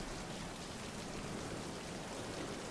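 Rain effect from the video game Mind: Path to Thalamus, a steady, even hiss of falling rain with no breaks or voices.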